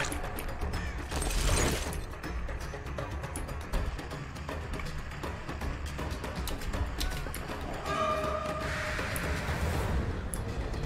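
Repairing a generator in a video game yields a continuous mechanical ratcheting and gear-like clicking, with creaks and a louder burst near the start and another swell toward the end, all at moderate level.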